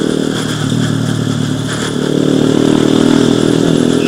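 A Ninja motorcycle engine runs close by with a steady, buzzing drone that grows slightly louder and rougher midway, without talk.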